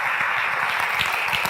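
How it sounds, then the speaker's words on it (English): An audience applauds at a live talk, a dense, steady wash of many hands clapping together at even loudness throughout, with no voices over it. "I thank you for clapping"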